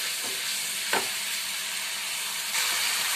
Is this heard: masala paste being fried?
yes